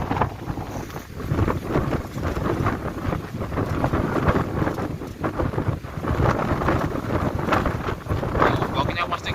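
Strong wind at sea off Taiwan, with seawater washing up onto a boat; continuous loud roaring gusts and splashing water fill the whole stretch, steady and close to the microphone.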